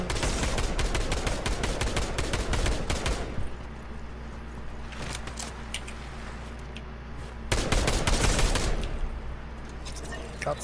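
Rapid bursts of gunfire in the Fortnite video game, a dense rattling volley for about three seconds, then scattered shots and a second heavy burst later, loud and close.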